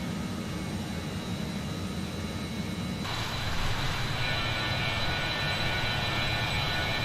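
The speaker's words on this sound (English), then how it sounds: "this plane is a very nice plane. It's a bit more difficult to fly than a Boeing 737 or an Airbus" Engines of a Just Flight 146 airliner in Microsoft Flight Simulator 2020 give a steady jet roar that shifts to a brighter, hissier whine about midway through and stays loud and continuous, with no talk.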